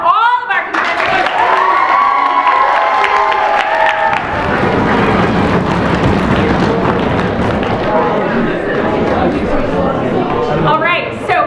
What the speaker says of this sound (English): I would like to have one more round of applause for all of our contestants.